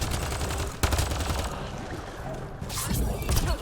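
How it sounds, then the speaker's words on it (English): Enemy gunfire in a video game, a dense rattle of rapid shots and bursts that rises and falls over a steady roar of battle, with faint talk underneath. "They just stopped to shoot at me."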